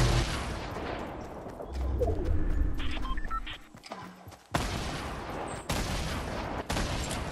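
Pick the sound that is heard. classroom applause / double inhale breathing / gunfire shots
gunfire shots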